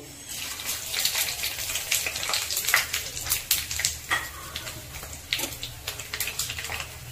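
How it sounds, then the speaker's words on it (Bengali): Whole spices, cracked cardamom among them, drop into hot oil and sputter in uneven bursts of crackling and popping, fairly close, for a dhaba-style mutton dish. "এবার সব মশলাগুলো তেলে দিয়ে দেব।"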